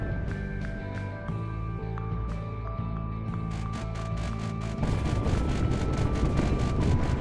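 Ship weapons firing in the space game Wayward Terran Frontier: a rapid series of sharp, evenly spaced shots over a loud droning engine hum, then a roaring rumbling blast that carries to the end.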